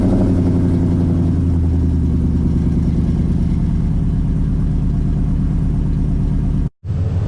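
A 2004 Chevy 5.3 V8 with new exhaust tips runs at a steady, loud, close rumbling idle for several seconds and then cuts off abruptly near the end.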